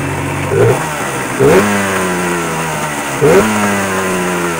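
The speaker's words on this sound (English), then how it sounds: "rev her up a couple times" A 2001 Sea-Doo GP900 engine idles close by and is revved three times, each short blip rising in pitch and then falling back to a steady idle.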